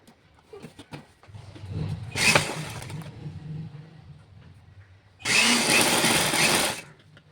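A sewing machine stitches a folded strip onto a blouse, running in two loud bursts near the start and end, with a steady lower motor hum carrying between them.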